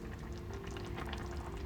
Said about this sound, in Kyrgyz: Бир аз кайнаганча күтөбүз.